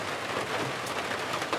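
Summer rain falling steadily, a soft continuous patter and hiss with no voices.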